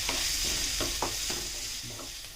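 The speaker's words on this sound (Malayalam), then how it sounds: "ഉള്ളി ഒരുവിധം നന്നായി വഴന്ന് വന്നിട്ടുണ്ട്" Onions sauté in a pan for a vegetable egg thoran, a close, steady sizzle with several scraping stirs in quick succession. No voices are heard.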